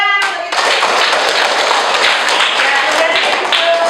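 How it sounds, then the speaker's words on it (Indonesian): Students in a classroom clap their hands together in a dense, lively burst of applause lasting several seconds, close and loud, with a short spoken lead-in at the start. "tepuk tangan untuk kita"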